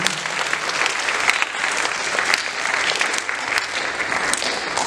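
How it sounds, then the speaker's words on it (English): Sustained applause from a school assembly crowd cheering a middle school boys volleyball team, dense steady clapping filling the room for the whole stretch without speech. "Clap it up for our boys volleyball team."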